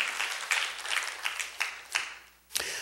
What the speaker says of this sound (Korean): 뜨거운 박수를 한번 있는 자리에서 보내시기 바랍니다